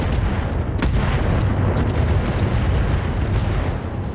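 Heavy weapons fire in a tactical video game booms and rumbles continuously, a dense, loud barrage of blasts and explosions with sharp cracks standing out over the roar.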